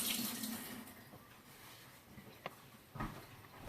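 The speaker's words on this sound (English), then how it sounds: "I'm going to rinse my hands off really quick" Tap water runs into a kitchen sink while hands are rinsed, a steady close hiss that fades, with a couple of brief splashes and clunks near the end.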